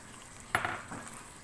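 A spoon stirring finely chopped onion into yogurt in a bowl, heard as one soft clink and a short scrape near the middle, faint and close, with no talk.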